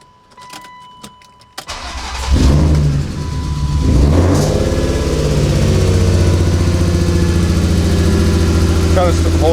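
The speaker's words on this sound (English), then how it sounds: "Yeah, so we're trying to warm up the car." A BMW E36 M3 cranks, fires up and settles into a steady, loud warm-up run around 2,000 rpm, the engine close and constant while people talk briefly over it.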